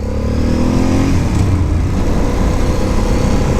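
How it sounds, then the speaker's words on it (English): A Ducati Monster S2R 800 motorcycle engine rumbles steadily throughout, loud and close, its low throaty idle briefly rising in pitch as if revved. "this sound, the engine, fantastic sound"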